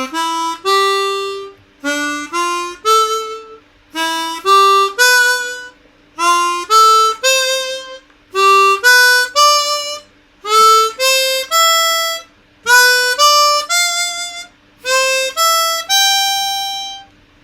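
Chromatic harmonica playing triads, each chord's three notes sounded one after another in short ascending groups, clear and close with brief pauses between phrases and no talking.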